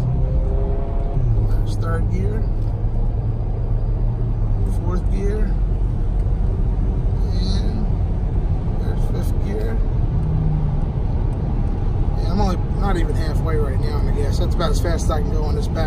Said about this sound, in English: here we go from a dead stop, about halfway down on the gas. There's third gear, fourth gear